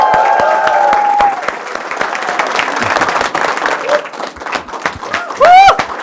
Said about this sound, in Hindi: खड़े पे ताली बजनी चाहिए